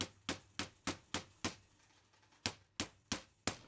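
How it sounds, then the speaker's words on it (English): A mallet taps a MILSIG Monolith SR1 rail down onto a paintball marker: about ten sharp, close knocks, evenly spaced at first, then a pause and another quick run of taps, with no talking. "you can use your trusty mallet to gently tap it down into place"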